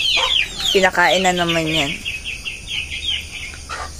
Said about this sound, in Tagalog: And ang ingay ng mga manok.